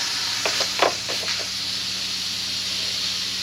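Steam hisses steadily from an Instant Pot's pressure release during a hard-boiled egg cook, with a few short sputtering bursts early on before it settles into an even, continuous hiss.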